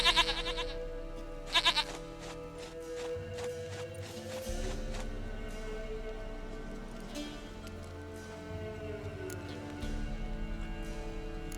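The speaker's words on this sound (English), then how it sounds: "Goat of mine, dearest, sweetest goat." A goat in The Witcher 3 bleats in a forest setting with loud, wavering, nasal cries early on, then quieter drawn-out calls over low ambient hum.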